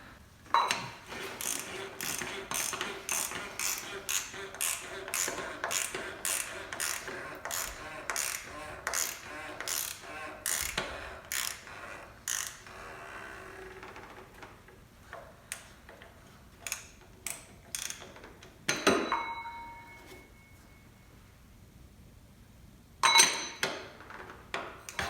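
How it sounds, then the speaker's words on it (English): A ratchet wrench clicks in rapid, steady bursts while tightening down the oil filter on a BMW F30 with an N20 engine, then slows to a few separate clicks and metallic clanks near the end. "tighten down the oil filter"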